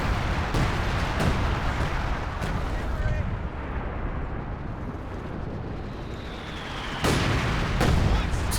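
In the Company of Heroes 2 video game, a perimeter overwatch artillery barrage sets off a dense, continuous rumble of shelling. Sharp, loud blasts punch through near the start and again toward the end, with voices faintly underneath.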